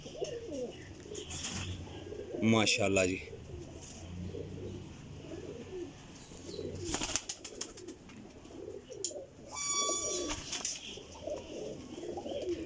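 Teddy flying pigeons, a golden champion breed, coo in a low overlapping chorus, broken by a few sharp clanks and rattles nearby; someone speaks briefly.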